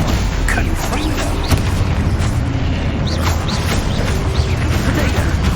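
Confringo explosion spell blasting in the Hogwarts Legacy video game, one of several booming bursts within dense, loud combat noise, with voices shouting over the fight.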